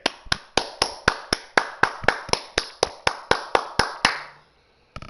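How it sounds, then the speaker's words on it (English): Steady, evenly spaced claps, about sixteen sharp strikes at a quick rhythm, close and fairly loud, closing out a wrestling King of the Ring tournament finale before stopping abruptly, with one last clap after a short pause. "Another round of applause for King TK."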